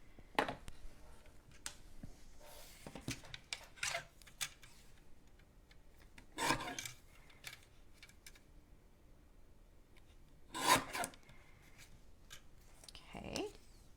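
A paper trimmer cutting card stock for a greeting card, heard as a few sharp, close slicing clicks spaced apart in a quiet room.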